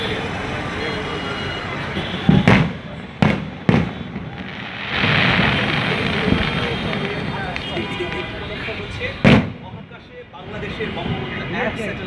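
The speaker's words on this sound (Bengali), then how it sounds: "দেখুন হাতির ঝিলের আতশবাজি" Fireworks at a Hatirjheel celebration in Dhaka marking a satellite festival: several sharp, loud bangs burst out at uneven intervals over a crowd murmur, with a voice talking over the scene.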